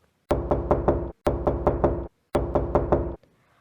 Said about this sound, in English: a soldier from Ayodhya knocked the door of their humble abode